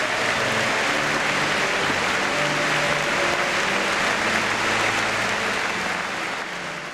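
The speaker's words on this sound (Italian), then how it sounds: "l'applauso di migliaia di fedeli." Thousands of faithful applaud inside Naples cathedral during the San Gennaro miracle celebration, a dense, loud, sustained wash of clapping that holds steady and then begins to fade near the end.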